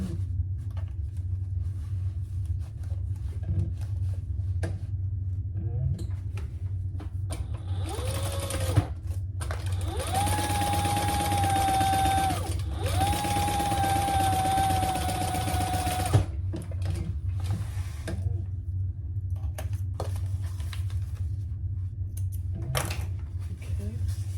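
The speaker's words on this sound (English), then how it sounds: "now we're going to sew the full seam allowance there" A sewing machine runs two sustained bursts of stitching along the full seam of an enlarged triple sling, a steady whirring motor hum over low room rumble, with brief handling clicks before and after.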